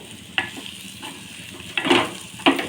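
Pepper chicken fry sizzles in a pan, close and steady, while a spoon scrapes and stirs it in a few distinct strokes.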